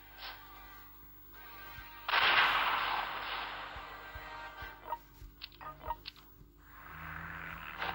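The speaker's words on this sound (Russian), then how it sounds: "Ну и понятно, куда мы ударим. Ионной пушкой." Ion cannon strike in the strategy game World Conqueror 3, a sudden loud blast that crackles and decays, followed by scattered booms and bursts of game effects over a low hum.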